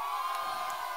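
A live crowd at a Brazilian funk concert shouts and cheers loudly together, a dense, steady roar of many voices filling the space without pause.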